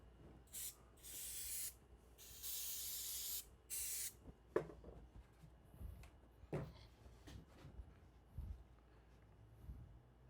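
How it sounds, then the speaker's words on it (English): Several loud hissing sprays from an aerosol can of glue activator come in short bursts, followed by quieter clicks and handling noises close by. "Spray the activator on here."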